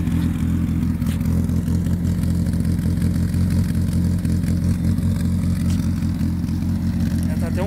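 Modified Parati Surf engine idling slightly high, a steady, deep lumpy rumble with constant low throb and some clatter, close and loud, with street noise around it.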